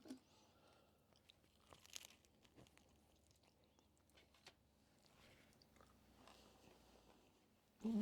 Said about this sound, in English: A little burnt. Good crunch.